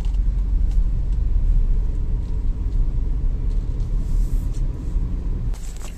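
A Maruti Suzuki Brezza being driven, a low continuous engine and road rumble from inside the car, steady with small surges, ending in a brief clatter.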